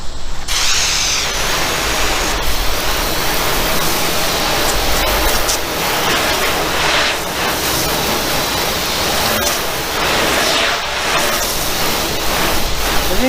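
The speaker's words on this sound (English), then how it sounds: "let's rinse it down." A water hose sprays loudly and steadily as it rinses a freshly washed car, a close, continuous broadband rush with small shifts in intensity as the stream moves.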